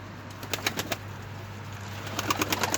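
Pigeons kept in a basement coop of an apartment building, with several quick wing flaps and soft bird sounds near the start, then more flapping bursts toward the end over a low steady hum.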